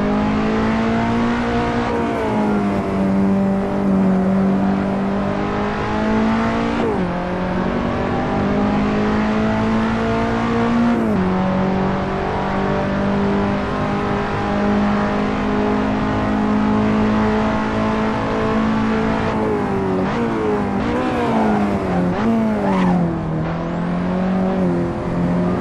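A race car engine in Assetto Corsa holds third gear with a loud, steady high-pitched drone, rising and dipping with throttle and shifts, close and continuous with no talk over it.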